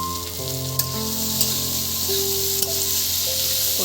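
Chopped tomatoes added to a frying pan for a fish roe and potato curry, sizzling in a steady, close hiss with faint scattered pops and stirring clicks.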